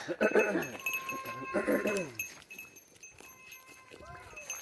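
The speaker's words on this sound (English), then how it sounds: "No, that is not a dying child. No. It's just a goat." A goat bleats on a farm, several wavering cries in quick succession, close and loud, followed by quieter rustling and a fainter bleat later on.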